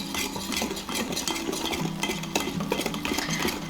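A dough whisk stirs cornbread batter made with light olive oil and whole milk in a bowl, a steady close scraping and clinking churn that goes on without a break.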